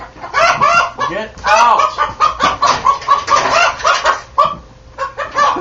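A rooster loose indoors clucks and squawks in rapid, loud bursts close by, with a voice shouting briefly among the calls.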